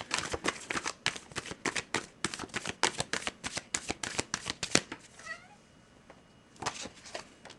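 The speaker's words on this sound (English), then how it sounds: "let's start pulling some cards here" Tarot cards shuffled in quick, crisp riffling bursts for about five seconds, close by, followed by a cat's short meows and a final brief card flutter.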